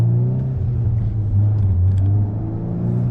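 A VW MK8 Golf R in race mode, its engine giving a close, loud, steady low rumble with a slight rise in pitch as it pulls in first gear.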